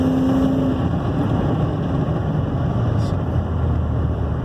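A 2001 Ford F350 running after a fuel pump replacement: a loud, steady, close engine rumble that holds even throughout, with no start clearly audible.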